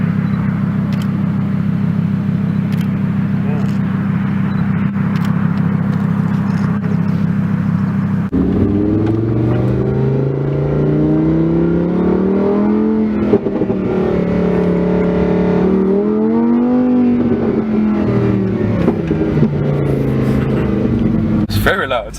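A Lamborghini Huracan Performante's engine drones steadily, then rises and falls in loud revving sweeps as the car drives past, with people talking over the noise.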